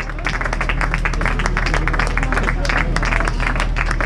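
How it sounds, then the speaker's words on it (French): Crowd applause for runners finishing the 45th Alençon–Médavy road race, heard as dense, continuous clapping that stays loud and steady for the whole stretch. "On a toujours les applaudissements pour"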